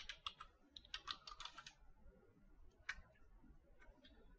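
Quiet keystrokes on a computer keyboard, a quick burst of clicky taps followed by a pause and a few scattered presses, close and faint.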